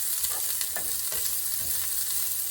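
Sliced leek sautés in a pan over medium-high heat, giving a dense, even sizzle with several soft scraping stirs, heard up close and without any talking.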